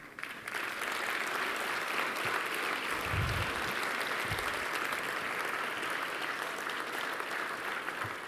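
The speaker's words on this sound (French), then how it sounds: "je leur dis bravo et je les applaudis" A crowd at a political party gathering breaks into sustained, dense applause that swells quickly and holds loud and even throughout, with a few low thumps and no speech.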